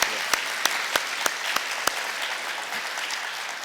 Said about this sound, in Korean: 저희가 격려하고 감사 박수를 드리도록 하겠습니다